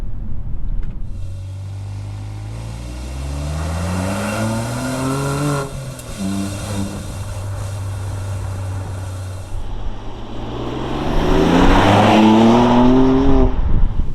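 BMW M2 Competition with a Remus exhaust, valves closed, pulling hard through second gear, its engine note climbing steadily, dropping briefly at the shift into third, then rising again, loud and close.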